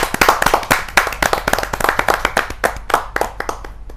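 Loud, sharp hand claps from an audience welcoming a poet at a Hindi kavi sammelan, irregular and close, with distinct individual slaps and no voices.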